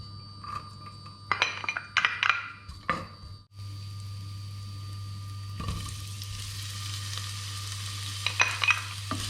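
Garlic fries in olive oil for chicken adobo with coconut milk, with a few stirring clinks first. Then a steady, close sizzle runs to the end, with more scraping of a utensil near the finish.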